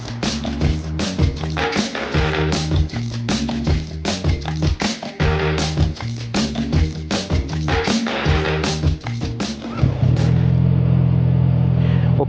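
A CFMOTO 675SR motorcycle engine runs loud and close at a dealership, with choppy rhythmic blips and revs, then settles into a steady idle rumble near the end.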